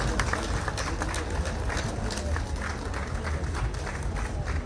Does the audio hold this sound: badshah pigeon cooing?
no